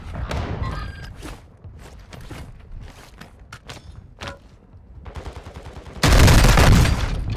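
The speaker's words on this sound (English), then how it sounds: "Taking effective fire." Gunfire in Warzone 2: many scattered shots and impacts throughout, with footstep-like thuds, ending in a loud sustained burst of rapid fire.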